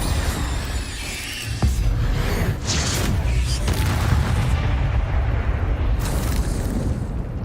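Incendio fire spell cast in Hogwarts Legacy, a loud, dense burst of flame and booming blasts that fills the whole stretch, with a sharp hit early on and surges near the middle and end.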